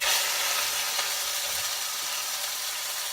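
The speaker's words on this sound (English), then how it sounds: "Added a little bit of olive oil in the pan, and we'll toss our first roast in." A pork shoulder roast searing in hot olive oil in a pan gives off a steady, even sizzle and hiss, close and constant with no voices.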